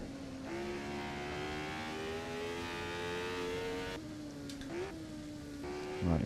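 Goodwood lap in a Formula 1 car, the engine screaming at high revs and bouncing off the rev limiter in a steady sustained wail, with brief dips and a sharp pitch jump near the end as it hits the limiter again.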